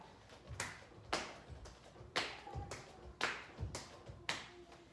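Hands clap above the head during at-home kids' jumping jacks, about seven sharp single claps in a steady rhythm, close and fairly quiet.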